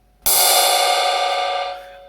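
A drum cymbal struck once on its bow rings out in a loud, bright, sustained wash of shimmering tones that slowly decays with no other sounds.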